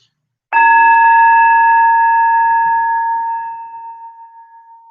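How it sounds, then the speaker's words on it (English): A meditation bell is struck once, a clear bright ring with steady harmonic overtones that sustains and slowly fades over several seconds, with a gentle beating shimmer in the decay. "Allowing the bell to take you further and further into the silence."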